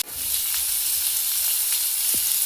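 Pieces of pointed gourd (potol) fry in hot oil, a bright, steady sizzle close up with a few faint clinks of stirring and no voices.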